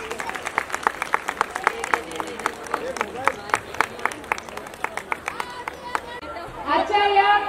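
Audience clapping at a BJP Mahila Morcha women's wing rally in Andheri, Mumbai, a crowd applauding in irregular bursts with a murmur of voices underneath, rising toward the end.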